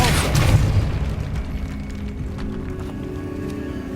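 A Depulso force spell bursts in Hogwarts Legacy, a deep booming blast up front that decays into a rumbling tail over a few seconds, with faint game ambience beneath.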